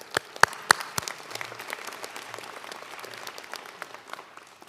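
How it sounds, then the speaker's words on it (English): Applause from an audience at a UC Merced fall commencement ceremony, starting with a few sharp, loud claps and settling into steady, moderate clapping throughout. "How about another round of applause?"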